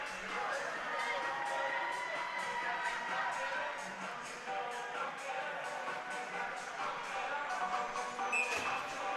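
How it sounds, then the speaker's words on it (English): A boisterous home crowd at a Burrillville high school ice hockey game cheers and roars steadily after a first-period goal, a dense sustained wall of voices with a brief louder swell near the end. "The Broncos are on the board here in the first period in front of a boisterous Burrillville crowd."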